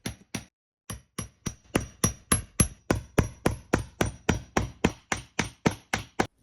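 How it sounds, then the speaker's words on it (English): Hammer blows strike a chisel to cut buttonholes in leather, about twenty sharp, evenly spaced knocks that speed into a steady rhythm. Close and clear, with no talking. "The buttonholes were then cut using a chisel and hammer."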